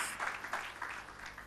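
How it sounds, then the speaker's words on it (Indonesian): A church congregation at a worship service claps together, a faint, distant patter of many hands in quick irregular bursts, alone without talk. "Mari berikan tepuk tangan."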